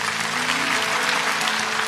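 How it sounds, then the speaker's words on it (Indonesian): Church congregation applauding during a sermon, a dense, steady wash of clapping that fills the whole moment at even loudness, with faint sustained musical tones beneath and no voice over it. "kasih tepuk tangan untuk Tuhan Yesus"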